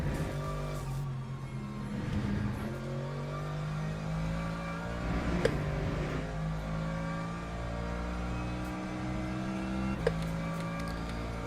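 A GT3 race car engine drones steadily on track with a strong harmonic tone, pitch rising and falling as it revs up and down, with a couple of sharp clicks along the way and no talk.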